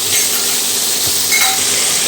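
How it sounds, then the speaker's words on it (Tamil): Tomatoes, green chillies and coriander sauté in a hot pan with a steady, close sizzle, broken by occasional stirring scrapes. "தக்காளி பழம் நல்லா சாஃப்டாகிற வரைக்கும் வதங்கி வரட்டும்."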